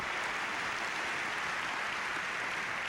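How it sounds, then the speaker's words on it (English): Audience applause at a business presentation after a sing-along, a dense, continuous wash of clapping at steady moderate volume filling the whole stretch without a break. "give yourselves a big round of applause"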